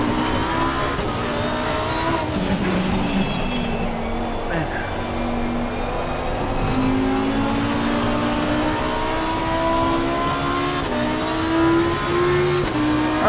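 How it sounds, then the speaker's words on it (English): Lamborghini Supertrofeo race car on a wet track in the rain, its engine droning and rising and falling through gear changes, steady and close throughout, with a voice talking over it. "These Supertrofeo cars are very fun, though."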